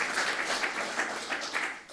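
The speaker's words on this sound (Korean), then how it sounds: "다시 한번 박수 부탁드립니다" An audience at the 2021 KFA conference K League season review applauds an award winner, a soft, continuous wash of clapping from a large crowd lasting about two seconds.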